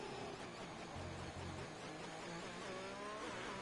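A Ferrari Formula racing car engine screams around the Singapore circuit in a PlayStation racing league qualifying session, a continuous high revving whine that rises and shifts through the gears, with other engine noise beneath it.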